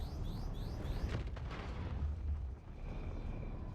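Hammerhead missiles exploding in the Star Citizen space game: a dense, rumbling roar with a couple of sharp blasts around the middle, layered over constant low engine drone and a faint whine.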